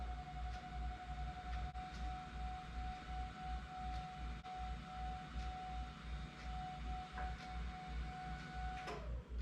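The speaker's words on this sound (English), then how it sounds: "you can hear my LED fans buzzing right now" Electric cooling fans on LED lights buzz steadily inside a pickup truck, a constant hum with a thin whining tone running unbroken and fairly loud, with no talking.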